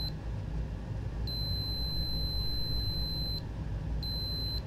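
An electronic device gives off high, thin beeps: one short chirp, then a long sustained tone of about two seconds, then another tone starting near the end, over a steady low background hum.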